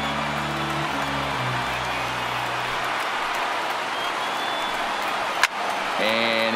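A baseball stadium crowd of more than 39,000 stands and roars as Pittsburgh faces its last strike in a perfect-game bid. The steady wash of cheering runs underneath, and a broadcaster's voice can be heard at the start and end.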